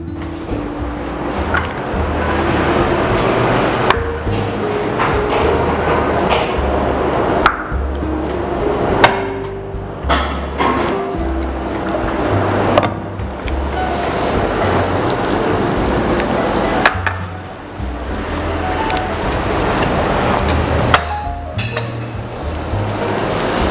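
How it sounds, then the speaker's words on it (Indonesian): Shallots are stir-fried in a pan for sambal brambang asem, producing a dense, loud sizzle broken by repeated clattering scrapes and knocks of a utensil against the pan throughout. "ini saya langsung tumis ya"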